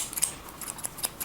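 Scissors snip hair during a mohawk haircut, with side scissors used to tidy the hair; a quick run of small, crisp, close-up clicks repeats irregularly and nobody talks over them.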